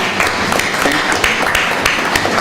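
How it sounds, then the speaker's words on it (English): Audience applause at a social business design lab presentation session: steady, dense clapping from a seated crowd, fairly loud and continuous throughout with a few sharper individual claps standing out. "Let's give a big applause for him, Atik"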